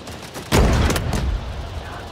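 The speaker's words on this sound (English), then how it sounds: "how are the explosions in the game?" Explosions and gunfire in the Delta Force: Hawk Ops video game: one loud blast erupts suddenly and booms on with a second burst after it, then a sustained rumble fading slowly.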